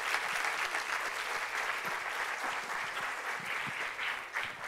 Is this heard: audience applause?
yes